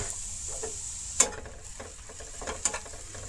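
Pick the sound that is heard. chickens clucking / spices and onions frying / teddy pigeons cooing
spices and onions frying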